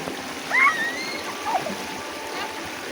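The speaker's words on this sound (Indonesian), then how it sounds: "yang airnya lagi lumayan besar karena musim hujan dan sedikit keruh" Steady rushing water of a river swollen and muddy from the rainy season flows continuously, a broad even wash with a couple of faint bird chirps above it and no talking.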